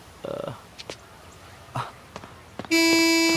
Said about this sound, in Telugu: హారన్.